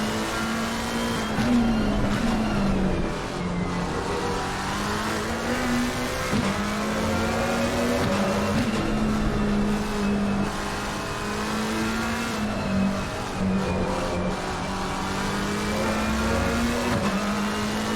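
Race car engine on the Hungaroring circuit in a sim racing game, a loud sustained whine that rises and falls with gear changes and cornering, with faint other cars around.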